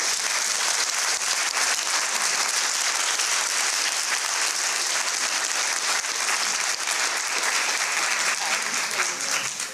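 An audience at a school district board of trustees meeting gives a drill team sustained, dense applause that holds loud and even throughout, with no talking over it.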